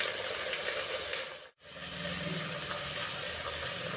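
Mixed sprouted and dried legumes frying in a pan, a steady hissing sizzle that cuts out briefly midway and then resumes, close and moderately quiet, no voices.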